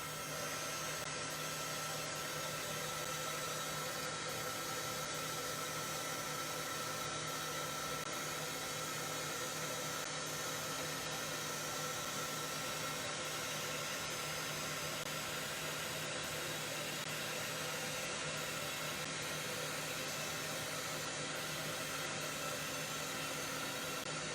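A heat tool drying texture paste on an altered craft box blows as a steady, continuous whoosh of airflow for the whole stretch, even and unbroken, with no voices.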